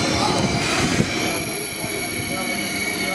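An ICE 611 train pulls into Essen Hauptbahnhof with its wheels squealing loudly on the rails, a sharp sustained high-pitched screech over the rumble of the rolling train, close by on the platform.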